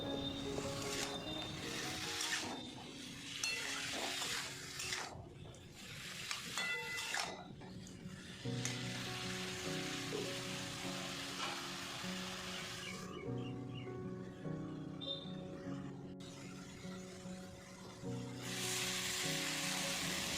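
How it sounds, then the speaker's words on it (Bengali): Taro stalks with salt and turmeric sizzle and fry in a covered pan, a steady soft crackle that runs throughout, with occasional clinks and shifts as the lid and spatula are moved. "ভালো করে কষিয়ে নিতে হবে।"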